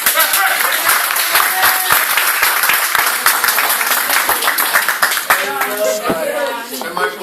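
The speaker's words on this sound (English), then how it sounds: "round of applause" Audience applause closing a class session, dense rapid clapping from a roomful of people, loud and steady, thinning toward the end as a voice begins speaking.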